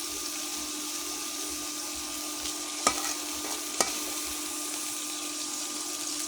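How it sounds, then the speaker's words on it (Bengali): Spice paste of ginger, cumin and garlic frying steadily in a pan, a constant soft sizzle with two sharp clicks of a spoon against the pan, no voices. "মশলাটাকে ভালো করে কষিয়ে নেব।"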